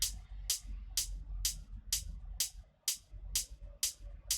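Crisp 909-style electronic hi-hat layered with a sampled human-voiced hi-hat, ticking at a steady eighth-note pace, about nine bright hits over a low thumping minimal house groove.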